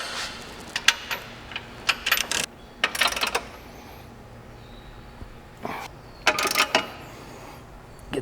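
A 5/8 end wrench turns and clicks against bumper bolts on a Polaris RZR XP Pro during a front bumper install, giving several short metallic clinks and rattles in bursts separated by quiet pauses.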